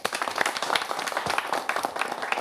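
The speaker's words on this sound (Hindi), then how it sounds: "उसके लिए तालियां जरूर बनती है" Audience applause at an Independence Day gathering on August 15, 2022, a dense steady wash of many hands clapping at moderate loudness with no talk over it.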